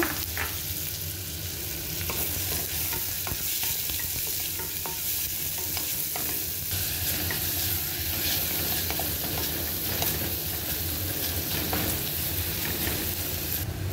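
Onion fries in hot oil, a dense, continuous loud sizzle with frequent stirring scrapes and crackles that runs steadily throughout.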